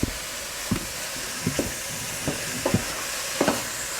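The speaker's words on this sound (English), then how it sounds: "Let us simmer a little bit." Beef suqaar cooks in a pan with a steady low sizzle and hiss, broken by several soft scraping stirs spaced about a second apart, close by and without talk.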